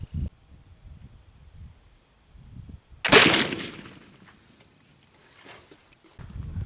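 A single loud black powder gun shot goes off close by after a quiet stretch, its boom decaying over about a second, with faint background noise before and after.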